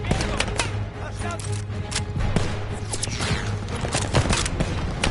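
Sustained shooting in a Call of Duty: Vanguard battle against half-tracks and machine-gun positions, with repeated sharp shots and bursts layered over a constant rumble, and shouting voices underneath.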